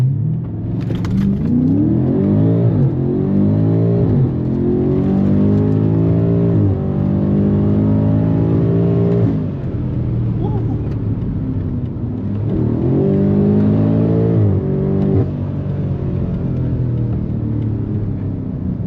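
A car engine roars as it launches, climbing in pitch through several gear changes with brief dips between, loud and close inside the cabin.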